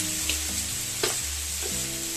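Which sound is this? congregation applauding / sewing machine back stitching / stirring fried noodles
stirring fried noodles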